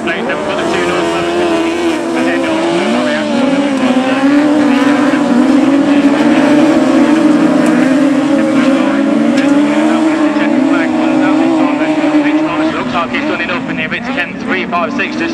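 Race cars lapping a circuit in a Class 8 heat, their engines whining loud and continuous with rising and falling pitch, while a commentator talks over the roar throughout.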